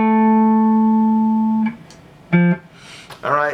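A sustained tone rings steadily for nearly two seconds, then a second harmonic tone sounds briefly after a pause, with a short voice at the end; together they give a major sixth interval from C up to A.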